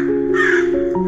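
Crow cawing in an animated children's story, one short harsh caw, loud and close, heard alone.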